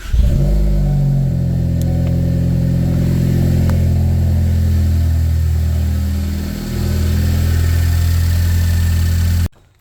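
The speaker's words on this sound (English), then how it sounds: "We'll go ahead and start the car up again" A Ford Focus ST EcoBoost engine runs steadily and loud up close, a smooth mechanical drone with a brief dip in pitch partway through before settling back, then cutting off abruptly.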